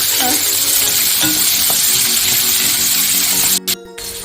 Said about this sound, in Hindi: तो भल भाव पियाज को भाजी दबा।